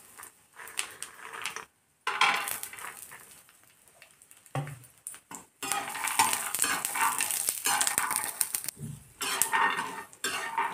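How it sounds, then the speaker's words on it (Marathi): Peanuts roast in a pan for a mixed vegetable dish while being stirred. Near, dry scraping and rattling comes in bursts, broken by brief silent pauses, with no talking. "शेंगदाणेही भाजून घेणार."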